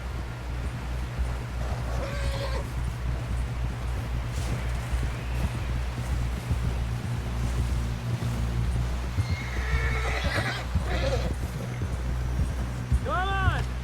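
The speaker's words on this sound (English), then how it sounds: "Someone help John down off this horse." In Red Dead Redemption 2, a horse whinnies twice amid steady galloping hoofbeats and a low rumbling background, with voices speaking over the clatter.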